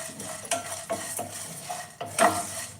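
Cinnamon dry-roasts in a pan for vangi bath powder, heard as a series of scraping and clinking stirring strokes against the metal over a faint background hiss.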